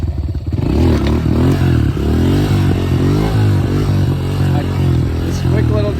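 Honda CRF125F dirt bike engine revving hard and steadily through a wheelie, close and loud, its rising and falling pitch sweeping under the throttle with some clatter.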